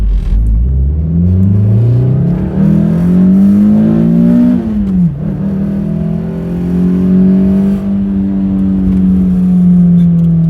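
A loud Toyota MR2 with a 4AGE engine and aftermarket cams revs up and down close by, its pitch climbing, dipping sharply, then holding a steady high drone.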